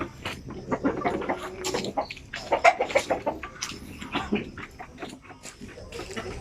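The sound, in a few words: Basilan and Sampen native chickens clucking at a chicken farm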